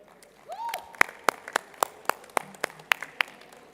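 Scattered audience claps at a global valuation summit, honoring the event, production and catering teams: about a dozen sharp, separate hand claps in an uneven rhythm, fairly close and clear, with a brief voice near the start.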